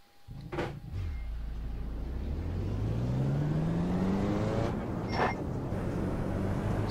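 Engine of a Skip Barber race car in the iRacing sim, pulling away in pit lane: a low drone rising steadily in pitch as it accelerates, with a couple of sharp clunks along the way.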